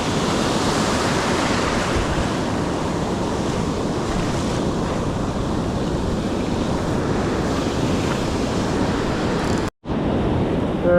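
Big surf waves breaking continuously at a beach, a loud steady roar with wind buffeting the microphone, ending in a brief dropout.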